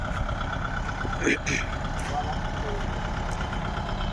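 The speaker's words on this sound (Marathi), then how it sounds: "हे मोठ्या ट्रॅक्टरनं रोटरायला चालू आहे असं रोटरलं आहे" A large tractor pulls a rotavator through a farm field, its engine giving a steady, unbroken drone that stays close and even across the whole stretch.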